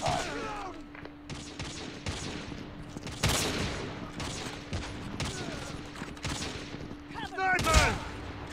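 Rapid gunfire bursts crackle through a Call of Duty Mobile match on the Cage map, with sharp shot transients recurring across the whole stretch and a louder burst near the end.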